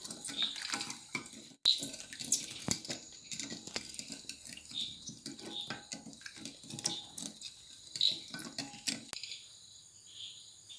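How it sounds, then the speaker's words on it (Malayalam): A utensil clinks and scrapes against a pot while sugar is stirred to dissolve it for cashew apple wine, with intermittent metallic taps and sloshing liquid. "നമുക്ക് നല്ലതായിട്ടൊന്ന് ഇളക്കി കൊടുക്കണം പഞ്ചസാര നല്ലതായിട്ടൊന്ന് അലിയാൻ വേണ്ടി"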